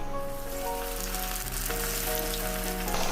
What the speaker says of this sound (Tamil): அஞ்சு நிமிஷம் கழித்து மீன் பொரிச்சிடலாம்.